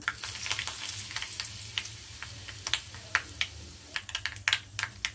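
Curry leaves crackle and sizzle in hot oil with mustard seeds and turmeric, with sharp irregular pops and spits over a soft steady hiss, close and fairly quiet.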